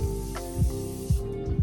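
Hydro Grip setting spray mists onto a face in short hissing bursts, three or four quick sprays spaced under a steady background hum.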